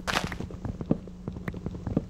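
A birch tree being chopped down in Minecraft, a quick series of short dull knocking hits in an uneven rhythm, close and moderately loud.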